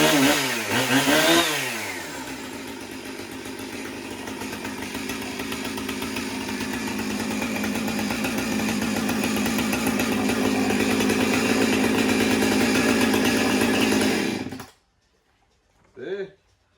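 Husqvarna 130 38 cc chainsaw engine revving up with rising, falling pulls, then holding a loud, steady buzzing idle before cutting off abruptly, followed by a brief voice.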